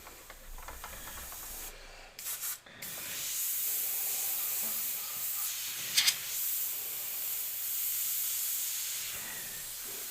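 An airbrush with the pressure turned way down sprays paint for smoke effects, giving a steady soft hiss that stops briefly, then resumes with a short sputtering burst.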